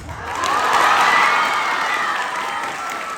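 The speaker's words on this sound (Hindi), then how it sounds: "भाई आप लोग ताली तो बजा दिए" Audience members at a Hindi poetry gathering break into applause mixed with cheering, a dense loud burst of many hands that swells quickly and holds through a few seconds.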